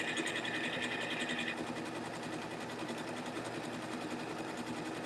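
A sewing machine runs decorative stitches with variegated thread, a fast steady mechanical whir and rapid needle chatter, loud and continuous, with a brief higher whine early on and no talking.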